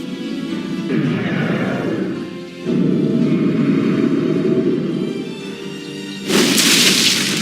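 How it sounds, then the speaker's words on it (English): Huge gates grinding open in Warcraft 3 Reforged, a deep, loud, sustained rumble with heavy low booms that swells in stages and ends on a brighter crashing surge. "The gates have been opened."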